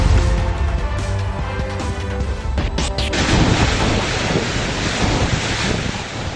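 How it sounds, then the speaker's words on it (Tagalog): Strong typhoon wind roaring without pause through Gonzaga, Cagayan, a loud, dense rush of gusts buffeting the microphone with no voices. "Nakabibingi ang lakas ng hangin sa Gonzaga, Cagayan sa kasagsagan ng pananalasa ng bagyong Ophel."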